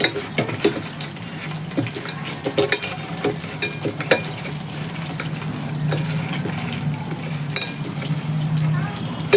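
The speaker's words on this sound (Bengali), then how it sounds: "এখন মাছটাকে ভালোভাবে মাখিয়ে নেব" Fish being worked by hand with salt, turmeric and chili powder on a plate gives steady wet squelching and mixing sounds, with faint clinks of dishes and a low background hum throughout.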